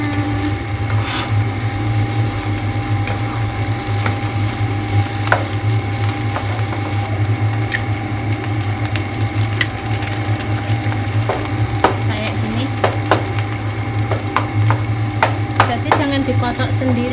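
Fried rice (nasi goreng) being stirred in a pan over steady sizzling, with a continuous low hum throughout and irregular clicks and scrapes of the utensil growing busier toward the end; no talking.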